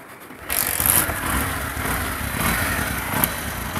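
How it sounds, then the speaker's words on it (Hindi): A Bajaj Platina 110 BS6 motorcycle engine kicks into life after a full engine overhaul, then settles into a steady, fairly loud idle that runs close by for several seconds with no talk over it. "अभी आपको स्टार्ट मार के देखने वाला हूँ इसमें कितना बढ़िया काम हुआ"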